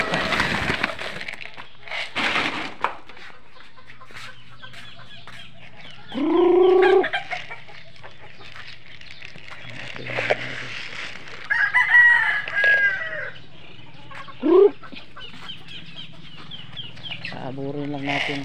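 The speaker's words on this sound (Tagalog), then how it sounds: "So ako na lang muna yung magpapakain sa ating mga manok." Backyard chickens gathering at feeding time, with a rooster crowing several times and hens clucking around it amid rustling, some calls close and loud, others farther off.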